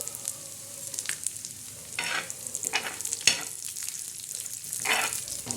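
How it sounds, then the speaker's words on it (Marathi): Peanuts roasting and stirred in a pan while making a stuffed bitter gourd masala, giving a steady close sizzle with repeated scraping stirs and louder bursts of frying noise. "शेंगदाणे टाकायचं शेंगदाणे चांगले लालसर करायचे"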